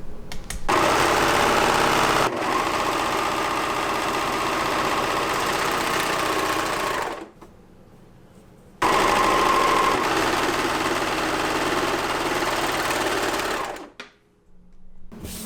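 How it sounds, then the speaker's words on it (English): A serger stitches side seams of a garment in two long runs of fast, steady mechanical whirring, each stopping abruptly with a brief quiet pause between, close and loud. "now we're going to sew the side seams, and I'm going to do this with my serger"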